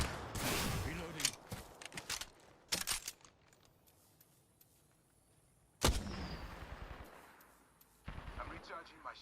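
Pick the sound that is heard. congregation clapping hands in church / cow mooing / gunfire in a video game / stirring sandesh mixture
gunfire in a video game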